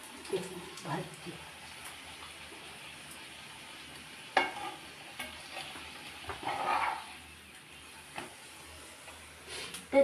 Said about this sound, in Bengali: দেখুন ভাজছি।